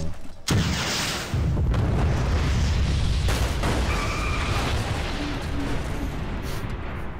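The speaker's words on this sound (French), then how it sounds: "Les choses que je vois, c'est des explosions." Heavy booming explosions and rumbling blasts in the video game Garry's Mod DarkRP fill the clip, loud and continuous, with sharp bursts on top of a dense low roar.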